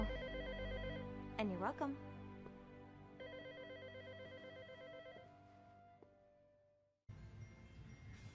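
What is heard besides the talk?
telephone ringing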